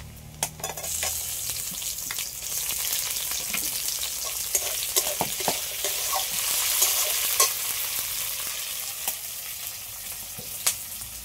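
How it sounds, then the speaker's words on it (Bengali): Browned onions fry with freshly added chopped tomato and four or five slit green chillies in a home kitchen, making a continuous bright sizzle with occasional clicks and taps of a stirring utensil against the pan. "এবার দিয়ে দেবো টমেটো কুচি আর 4-5টা লঙ্কা চেরা"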